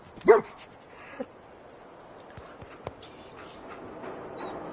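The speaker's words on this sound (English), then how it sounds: "This is your friend? He's a dog." A dog in the Fallout 4 video game gives a short sharp bark at the start, followed by faint whimpers and scattered light footsteps over quiet game ambience.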